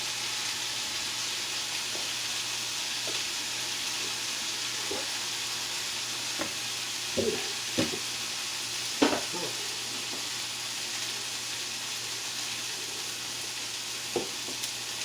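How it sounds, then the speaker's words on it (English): Meat sizzling in a hot frying pan on a home stove, a steady close hiss of frying that runs throughout, punctuated by a few faint taps and clinks of utensils. "Hear that sizzle?"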